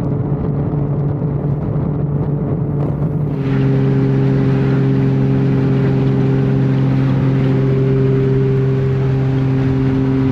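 A TVR sports car cruises along country roads, its engine droning steadily and loud with a strong low hum that shifts in pitch partway through, then holds an even, sustained note to the end.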